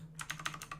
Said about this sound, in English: Enjoy my mechanical keyboard, by the way. Just got it, and it's pretty psychotic in terms of how loud it is.